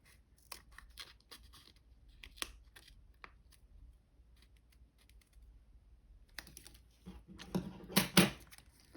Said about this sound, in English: I can just cut this off into